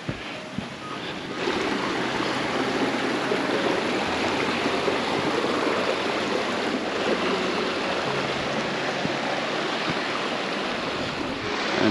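Creek water flows along a hiking trail in a steady, close rushing wash that continues without a break, with some wind buffeting at the microphone.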